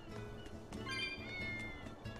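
A cat meows in the game Tales of Berseria, a single drawn-out, fairly quiet in-game meow set against soft background music.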